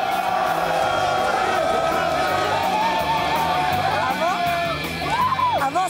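A crowd of fans greets Dorothée at the Paris Manga convention with a continuous roar of voices and cheering, and shrill yells rise near the end.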